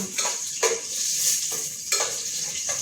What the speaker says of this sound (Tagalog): Agisa ko taan na siyang sibuyas.